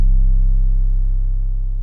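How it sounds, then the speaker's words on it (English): A single long Droneaholic 808 bass drum hit with added distortion booms deep and loud, its heavy low tone sustaining and slowly fading over about two seconds with no other sounds. "The 808 is from Droneholic's kit as well."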